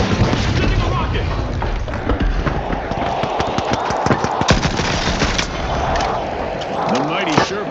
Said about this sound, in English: Sending a rocket.